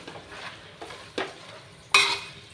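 Chicken masala with curry leaves stirred in a pan: a few soft scraping strokes and light sizzling, ending in a sharper clatter of the spoon against the pan.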